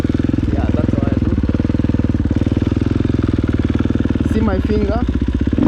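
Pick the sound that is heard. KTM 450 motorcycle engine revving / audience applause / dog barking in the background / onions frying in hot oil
KTM 450 motorcycle engine revving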